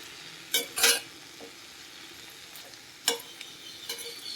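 Coriander and mint chutney mixture stirred in a pan, soft background sizzle broken by a few sharp scraping strokes of a spoon against the metal, close and fairly quiet.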